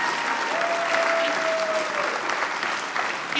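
Round of applause from the audience at a credit union annual meeting, a steady wash of many hands clapping at moderate distance, with a faint tonal whine partway through and no clear speech.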